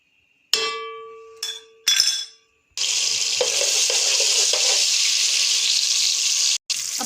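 A spoonful of ginger garlic paste dropped into warmed oil in a pan, with a couple of clinks of a utensil and then a loud, steady, close sizzle of frying that continues with a brief break.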